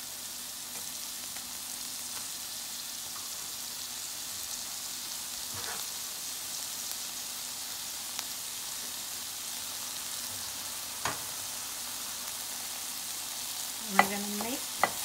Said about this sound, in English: I'm gonna go in with my red onions.